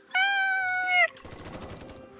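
In the video game Goddess of Victory: Nikke, a loud tonal wail rings out for about a second, then cuts into a burst of rapid, crackling gunfire that rattles on and slowly fades.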